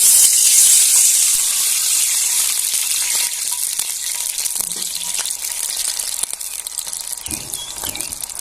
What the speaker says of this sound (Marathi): आता तेल एकदम कडक झालेलं आहे आणि हळूच ते पाणी ओतून घ्यायचं आहे